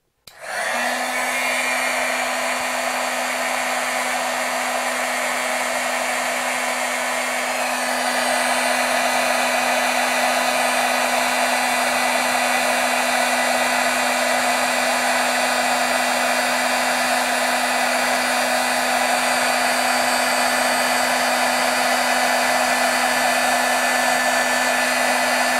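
Heat tool blowing hot air onto stamped ink, a loud continuous whirring hum that starts abruptly and holds steady for a long stretch, shifting slightly partway through.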